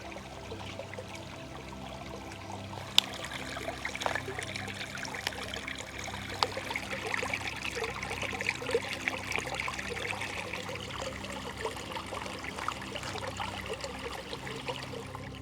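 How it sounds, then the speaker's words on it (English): River water flowing over a road trickles and burbles continuously at a low, even level, with a few small splashes and clicks, and no voices. "the river goes over the road"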